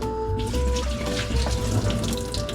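Steady tap water runs continuously into a sink while dried pollack soaks in rice-rinsing water, a close, even flow with faint background hum and no talk.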